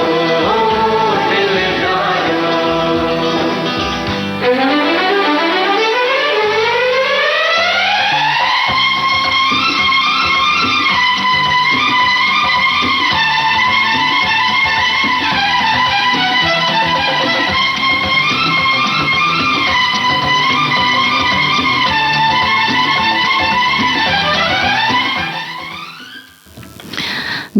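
Hindi film song from Jo Jeeta Wohi Sikandar, a full orchestral track with melodic vocals that plays steadily and loud throughout, dipping briefly near the end.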